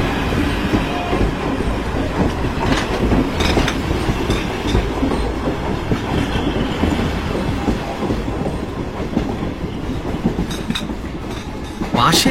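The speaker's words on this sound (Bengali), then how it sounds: "আমি ট্রেন চালাবার হুকুম দেব।" A train sound effect from a Bengali audio drama: a railway train runs continuously with rolling wheel rumble and clattering carriages, loud and steady throughout, briefly swelling near the end.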